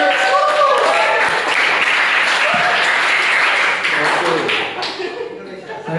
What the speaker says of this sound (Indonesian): Aplaus buat Wonogiri.